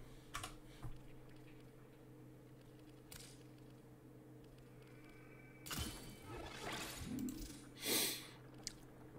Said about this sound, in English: And you just type it in here.